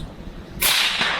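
A suppressed Remington 700 in .223 fires a single shot at a steel target, the bullet's sonic crack arriving as one loud, sharp, broadband snap that then hangs in a sustained hiss, with no talk.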